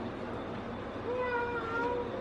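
A cat meows a few times in rising, drawn-out cries, moderately loud over a noisy indoor background during a Tamil TV serial scene.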